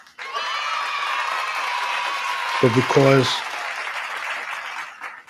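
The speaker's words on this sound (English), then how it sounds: "Clap it up for Andre 3000." A crowd cheers and claps for Andre 3000, a bright, steady burst of applause and whoops with a voice briefly speaking over it midway, fading out near the end.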